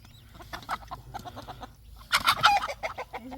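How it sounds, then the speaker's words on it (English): A chicken sitting on eggs clucks nearby, soft at first and then a louder burst of agitated cackling, with scattered rustling around it. "There's a chicken laying on eggs"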